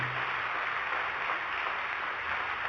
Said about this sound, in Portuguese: Pode aplaudir forte.